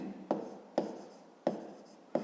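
A pen writes in a notebook, four short scratching strokes at close range, each a brief rasp that fades out quickly, with no voices.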